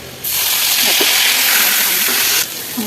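Water is poured into a pan of sizzling ginger garlic paste with cumin and coriander, and a loud, close burst of steam hiss rises sharply, holds for about two seconds, then cuts back to a quieter fry.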